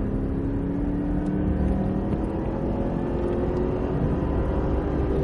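A Cadillac at full throttle on a racetrack gives a steady, loud, droning engine roar from inside the car, with no breaks or gear changes.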